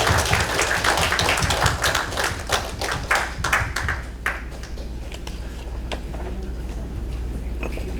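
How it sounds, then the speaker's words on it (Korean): Members of a church congregation at a Sunday service clap to encourage departing students. The clapping is brisk and busy at first, then thins out and trails away into quiet room tone about halfway through. "힘찬 격려의 박수 부탁드립니다"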